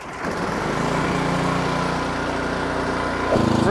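An Ariens snowblower engine, already hot, fires after a pull start and runs at a steady medium idle, a continuous close, loud putter, then its pitch rises sharply near the end as the throttle opens.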